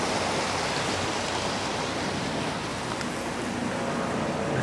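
Water flowing in a park stream with tree roots along the bank, a steady broadband rushing and trickling that stays constant and close throughout, no voices.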